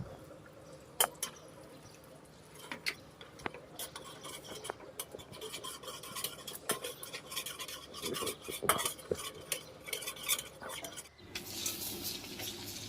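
Utensil stirring in a kadai after butter goes in while making macaroni pasta, heard as scattered quiet scrapes and clinks with a soft sizzle building toward the end.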